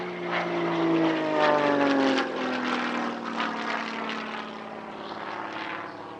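A Spitfire Mk.Vc propeller fighter flying a solo aerobatic display at an airshow, its engine droning loudly and shifting pitch as it passes, then fading slightly.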